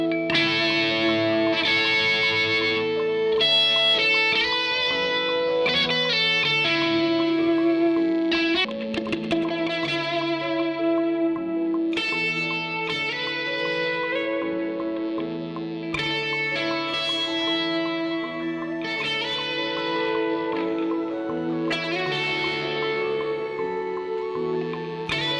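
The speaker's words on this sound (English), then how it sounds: "We're going to stack that VST guitar with a real guitar and this is going to make the VST guitar feel more real." A VST guitar stacked with a real guitar played through drive-heavy effects pedals, a sad melodic loop of layered, distorted chords and picked notes with chorus and echo, repeating in phrases at steady volume.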